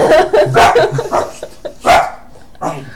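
A voice imitates a dog barking, giving several loud, close woofs and yips in quick succession.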